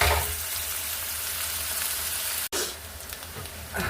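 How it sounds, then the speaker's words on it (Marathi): Chopped onion fries in a home kitchen pan, giving a steady broadband sizzle with a short break partway through, close and alone. "आता हा कांदा चांगला फ्राय होऊ द्या."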